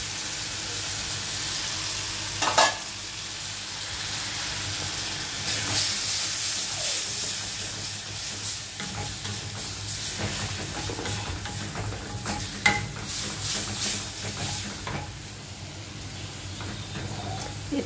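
Spice paste for a prawn, tomato and yogurt bhuna sizzles and hisses steadily in a pan, with occasional stirring scrapes and clicks over a continuous frying hiss, no talking.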